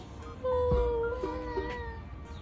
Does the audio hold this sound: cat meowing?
yes